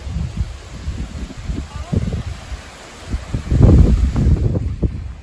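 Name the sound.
wind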